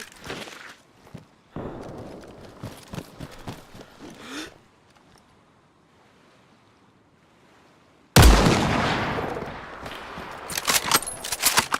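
Gunfire in the DayZ video game: scattered shots and short bursts at first, then a quiet stretch, then a sudden loud, sustained volley of close shots.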